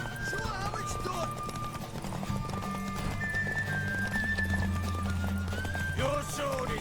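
Horses galloping in a race in The Witcher 3, rapid pounding hoofbeats and snorting neighs under game music, with people talking over the action.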